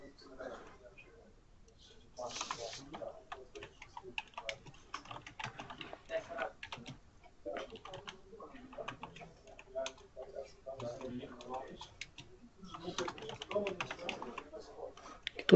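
Typing on a computer keyboard while coding in Xcode, with steady clicking keystrokes coming in irregular bursts throughout, close and moderately loud, mixed in with quiet talk.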